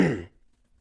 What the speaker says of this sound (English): I got to clear my throat